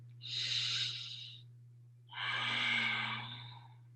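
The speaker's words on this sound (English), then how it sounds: "try to take a deep breath in" Two long, deep breaths drawn in through the nose and mouth, close and breathy with a steady low hum underneath, a pause between them and no talking.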